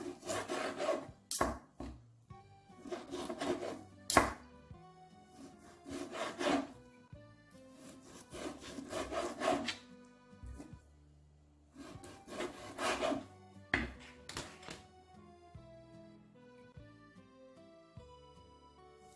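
A knife slices ingredients for a pork marinade with pineapple and coconut milk, giving repeated rasping, sawing strokes in bursts with short pauses, close and fairly quiet, with a little background music.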